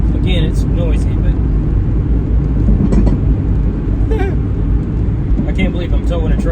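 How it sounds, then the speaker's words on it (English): A Toyota Matrix towing an empty trailer gives a steady, loud road rumble and engine drone throughout, with voices talking over it. "I can't believe I'm towing a trailer with a Toyota Matrix right now."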